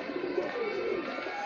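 Pigeons cooing in a cage, a steady low murmuring coo that runs continuously at moderate volume with no talk over it.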